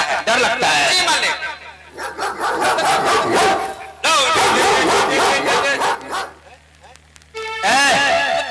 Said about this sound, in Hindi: कुत्ता कहाँ बोल रहा है?